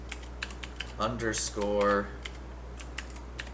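Typing on a computer keyboard while working through a math lesson on alternating series: scattered, close clicks of keys tapped in short bursts and pauses, with one brief spoken word in the middle.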